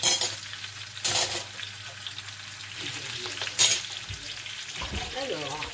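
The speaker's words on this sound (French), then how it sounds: "on laisse cuire un peu les oignons" Onions frying in a pan, a soft continuous sizzle with a few sharper bursts of stirring and hissing, close and fairly loud.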